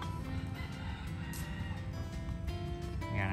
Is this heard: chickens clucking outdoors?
yes